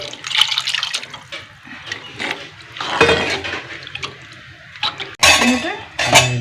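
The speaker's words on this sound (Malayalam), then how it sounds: "ഇനി ഇത് ഒഴിച്ചു കൊടുക്കാം നല്ല കഴുകിയ വെള്ളം" Rice-washing water splashes into a pot of fish curry on the stove, with clinks of metal pots and utensils between pours; sounds are close and moderately loud, with no talk.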